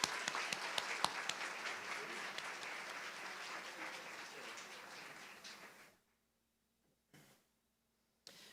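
A crowd applauds graduates steadily for several seconds at a college commencement ceremony, a dense wash of clapping that fades out abruptly, followed by near silence and a couple of brief noises.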